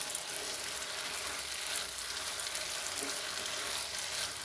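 Steady sizzling and frying in a hot pan as a curd (yogurt) mixture is stirred in for a grated-potato Bombay chutney, a continuous hiss without speech.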